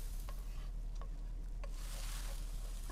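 Scrambled eggs cooking in The Sims 4, a steady sizzle with stirring and a few light utensil clinks, continuous and fairly close with no one talking.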